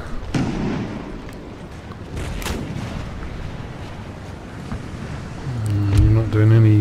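Musket volleys crack out in an Empire Total War (Darthmod) battle in Greece, a few sharp bursts over a rumbling battlefield din, with a brief tonal swell near the end.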